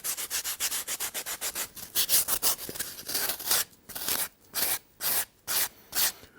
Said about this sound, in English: the sandpaper like that. That you get a nice smooth plane.